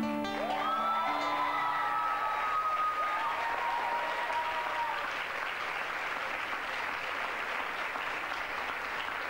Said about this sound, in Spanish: Hay tanto aplauso en este programa